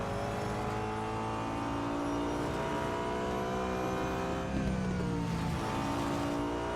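An Audi A5 DTM race car from 2012 drones through a lap in the mobile racing game Real Racing 3, its engine holding a steady, loud high whine with a brief gear shift and pitch dip near the end, no voices.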